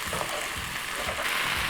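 Hoisin sauce frying with vegetables in a hot pan gives a steady, close sizzle with soft crackling that runs without a break, and no voices are present.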